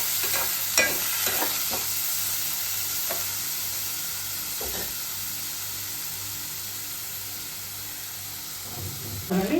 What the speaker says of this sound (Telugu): పప్పు బియ్యాన్ని మంచిగా నెయ్యిలో వేయించుకోవాలి.